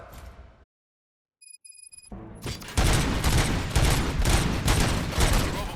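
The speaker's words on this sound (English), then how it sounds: "Gunshots? What's going on?" Gunfire from the film RoboCop: after a quiet pause and a few faint high tones, a dense, loud fusillade of rapid shots erupts and keeps going, booming near and steady.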